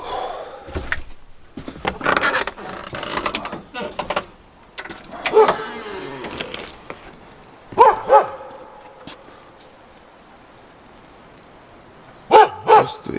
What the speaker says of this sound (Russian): Опять собака залаяла.